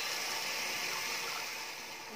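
Water poured steadily into a cooking pot to make soft rice with potatoes for children, a continuous hissing gush that stays close and fairly loud for its whole length with no talk.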